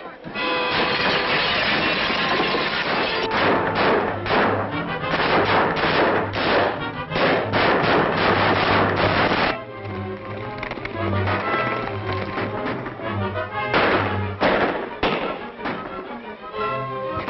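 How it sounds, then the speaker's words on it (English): Old 1936 western film shootout, with gunshots fired over people's heads as loud sharp cracks in quick succession over a dense, busy action soundtrack with music and hoofbeat-like rumble throughout. "Shoot over their heads."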